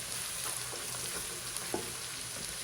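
Chopped aromatics and chili powder fry in hot lard in a wok, a steady close hiss of sizzling oil with faint stirring clicks.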